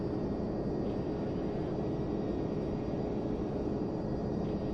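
In Flight Simulator X, a Boeing 767-300 speeds down the runway for takeoff, its jet engines giving a steady, loud, broadband roar with a faint whine above it, and no talking.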